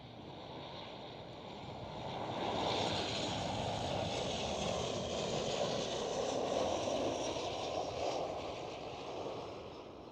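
A Transavia Boeing 737 at Schiphol makes a distant, steady jet roar, a broad rushing rumble that swells slightly after a couple of seconds, holds, then eases off toward the end.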